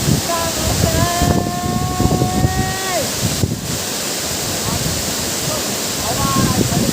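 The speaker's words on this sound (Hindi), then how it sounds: "देखिए ये वाटरफॉल" The Gunjiwada Waterfall in Andhra Pradesh roars continuously and loudly, a dense wash of falling water with wind buffeting the microphone and voices faintly carrying over it.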